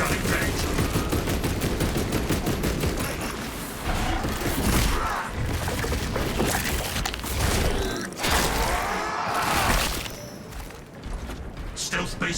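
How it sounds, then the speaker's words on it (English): A servo gun in Warhammer 40,000: Space Marine 2 fires in a dense, sustained stream of loud mechanical gunfire with clattering and creaking mechanisms, broken by a few short lulls. "Servo gun engaged."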